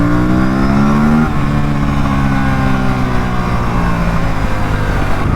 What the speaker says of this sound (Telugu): సూపర్ పాప్ సౌండ్స్ వస్తున్నాయి.